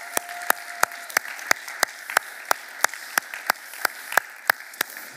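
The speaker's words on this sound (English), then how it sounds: "Big round of applause to the moms here in the house" Steady, evenly spaced claps at church in honor of the moms, sharp and regular like one or a few people clapping in rhythm over a quiet room hiss.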